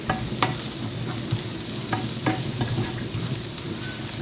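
Mushrooms and vegetables sizzle steadily frying in a pan, with occasional scrapes and clicks of stirring, close and continuous, no talking.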